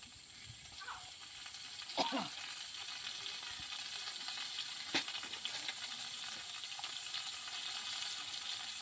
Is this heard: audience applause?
no